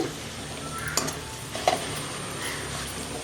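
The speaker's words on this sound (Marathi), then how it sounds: "याला ना पाच मिनिटं तेलामध्ये छान उकळून घेऊ" Onion seeds, flaxseed and fenugreek seeds simmer in oil with a soft, steady sizzle, broken by a few light stirring clinks and scrapes; fairly quiet and close, with no talking.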